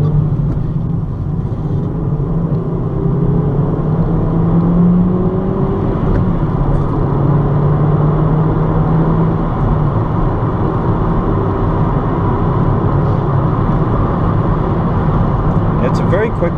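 A 2012 Kia Cee'd 1.4 MPI pulls and revs up through the gears on back roads, its engine drone rising and falling under steady road and wind noise from inside the cabin.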